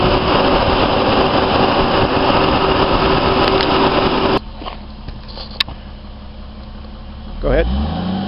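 A 1992 Toyota Supra's engine is given gas during a pre-purchase inspection, holding a steady loud raised roar for about four seconds before dropping back to a quieter idle, then a short blip of throttle at the end.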